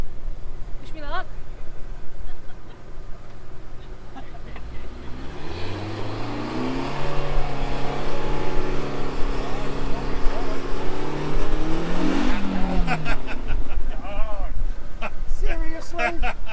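Off-road vehicle stuck in a bog on a beginners' trail drive, its engine revving hard and rising in pitch for several seconds as it strains to pull free, loud and close, with people talking over it.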